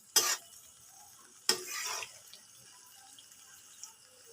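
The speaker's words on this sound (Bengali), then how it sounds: "একটু বেশি লাল লাল করে ভেজে নেব" Palm fruit fritters (taler bora) frying in hot oil and being turned, with two sharp stirring scrapes followed by a soft, faint sizzle that lingers quietly between them.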